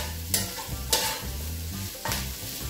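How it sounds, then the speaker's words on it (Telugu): Vegetables stir-fry in hot oil for gobi fried rice, a steady close sizzle broken by three sharp scraping tosses of a spatula in the pan. "జస్ట్ ఒక 2 సెకండ్లు ఇలా ఆయిల్లో వేగితే సరిపోతుంది."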